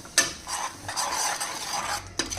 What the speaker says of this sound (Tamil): தேவையான அளவு உப்பு போட்டாச்சு. நல்லா கிளறிக்கலாம்.